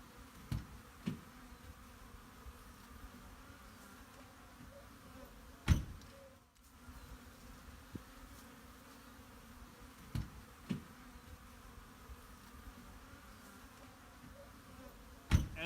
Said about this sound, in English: Find out which tires have the bees in them